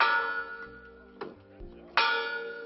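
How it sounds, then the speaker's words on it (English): A commemorative bell rings out at 3 p.m. marking the 1963 "Let freedom ring" moment, with two clear resonant strikes ringing and decaying. "A bell rang out at 3 p.m."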